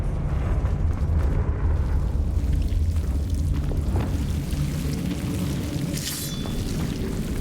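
A Confringo fire spell explodes in the video game Hogwarts Legacy, giving a deep, rumbling boom that holds as a steady roar for several seconds, alone without speech.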